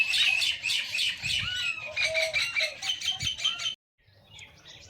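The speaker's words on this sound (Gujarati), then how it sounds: "તો ગાઈઝ પોપટ જો" A parrot chirps in a mango orchard on a farm in the morning, giving dense, busy, fairly close chatter that stops abruptly near the end, followed by a quieter stretch.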